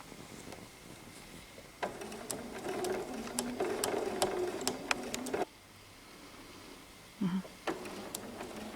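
A sewing machine stitches quilt binding in rapid bursts of needle clatter, pausing briefly, then resuming with a few short final stitches and a reverse.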